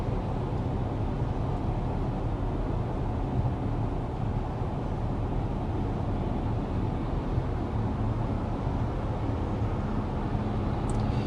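Steady low cabin road noise inside a 2025 BMW X3 M50 cruising at 55 mph, a constant broadband rumble and hum with no talking.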